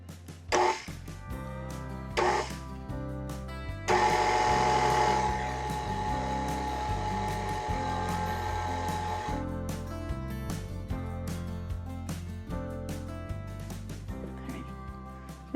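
An electric hand mixer runs in a bowl of cupcake batter as cocoa powder is mixed in. After a couple of brief bursts it settles into a steady whir for several seconds, loud and close, with music playing underneath.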